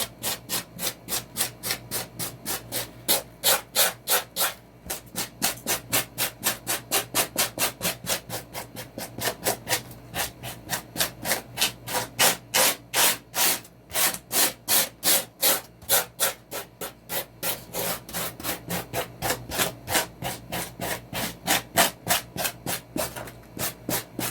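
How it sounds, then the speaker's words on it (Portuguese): Hand sanding of a giant popsicle sculpture for a party decoration, steady back-and-forth rasping strokes repeating rhythmically and close up for over twenty seconds, with no speech. "Lixei, ó, com muita paciência."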